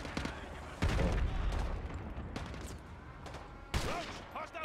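Gunfire in the video game Call of Duty Modern Warfare 2 Remastered, in the Gulag level: loud, dense bursts of shooting with booming impacts that swell in waves throughout.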